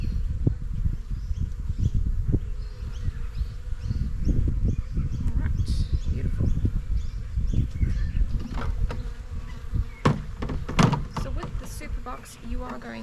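Honeybees buzz around an open hive as a beekeeper adds a honey super, a dense, continuous hum with individual bees droning close past, and a few knocks and handling noises near the end.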